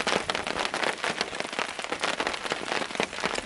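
Raindrops fall in a forest near rocky ground, a close, dense, crackling patter that continues evenly throughout.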